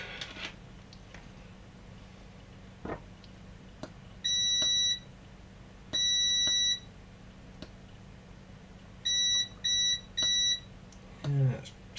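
A multimeter in continuity mode beeps during a repair of a DVD/MP3 player: five short high-pitched tones in two clusters, with some longer, some quick, over quiet background handling clicks.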